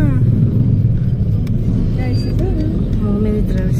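Motorized tricycles crawl through busy market-day traffic in Arayat, a steady close engine rumble with passing vehicles and faint horn-like tones, with voices talking over it.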